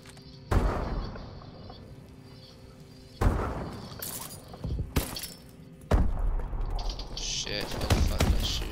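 Gunfire in Call of Duty Advanced Warfare, a Search and Destroy match on the Solar map: three sharp bursts of shots separated by pauses, loud and close, with quieter game ambience between them.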